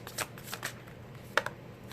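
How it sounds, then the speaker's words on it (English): Tarot cards being dealt out during a reading: soft papery flicks and snaps land every fraction of a second, a few louder slaps standing out, close and quiet with no voices. "I'm going to deal them all out"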